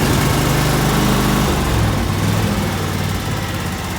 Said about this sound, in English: this is the only good motor Craftsman ever made